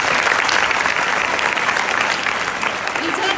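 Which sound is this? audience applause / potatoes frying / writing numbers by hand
audience applause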